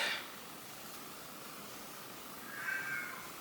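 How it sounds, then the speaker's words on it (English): A house cat gives two faint, drawn-out meows, one at the very start and one near the end, against a soft hiss of background noise. "Please ignore my cat."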